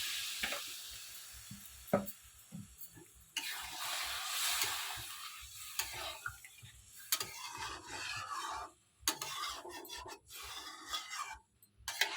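Curry gravy simmers in a pan with a steady close sizzle and bubbling, broken by scraping stirs and a few short pauses.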